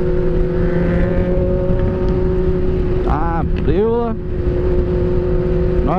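Road traffic of cars, trucks and a tractor-trailer on a busy city road, a steady close engine and tyre rumble with one vehicle sweeping past midway, people talking over it.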